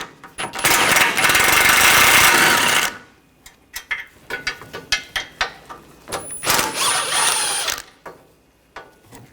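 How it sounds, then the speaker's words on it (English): A 13mm socket on a ratchet works bumper bracket bolts off a Buick Encore: a loud sustained whirring burst, then a run of sharp ratcheting clicks, then another whirring burst, close up. "We're going to use a 13mm socket. Take the two inner bolts off."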